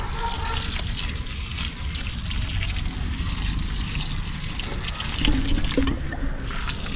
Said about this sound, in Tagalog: Diligan lang natin.